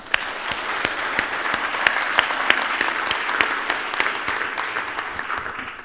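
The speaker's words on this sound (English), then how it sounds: "Let's give them a round of applause." An audience at a creative technology gallery event applauds, a dense, continuous patter of many hands clapping at steady volume for several seconds.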